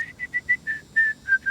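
A person whistles a short tune of about eight clear, sustained notes in a steady rhythm, close and fairly loud with no talking.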